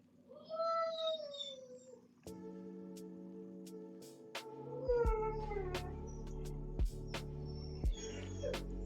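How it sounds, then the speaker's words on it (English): A puppy cries and whines in long wavering tones near the listener, joined by other dogs barking in short sharp bursts in a busy indoor room. "Gotta love the baleful crying of a pup."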